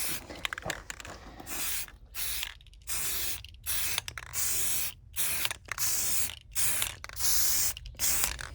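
Black spray paint hissing from an aerosol can onto angle iron brackets in a workshop, coming in about a dozen short bursts with brief silent gaps between them, close and loud, no voices.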